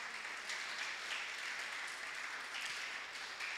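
A church congregation applauding during a worship service, steady sustained clapping from a crowd, fairly quiet and continuous throughout with no break.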